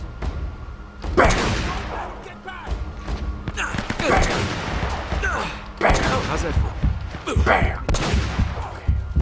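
Sniper rifle shots in Uncharted: Drake's Fortune Remastered, fought at a monastery, crack out as several heavy reports spaced a second or two apart, mixed with other game noise while someone talks throughout.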